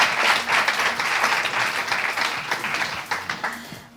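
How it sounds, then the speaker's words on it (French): A live audience at a French entertainment show claps for two guests, giving steady, dense applause that swells early and then thins into scattered claps toward the end, with no voices over it. "On applaudit mes deux jokers,"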